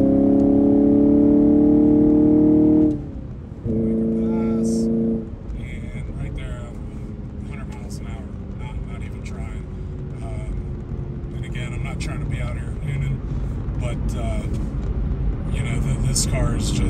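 Engine of a stock 2023 Camaro 2SS 1LE heard from inside, first a loud steady high-revving roar, a brief break, then another burst before settling into a lower sustained drone with road rumble under someone talking.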